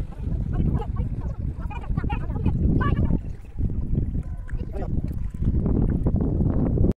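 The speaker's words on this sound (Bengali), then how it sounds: "নৌকাটা চলে এসছে" A boat arrives on a Sundarbans waterway, its faint motor and water movement mixed with wind buffeting the microphone, while people talk throughout.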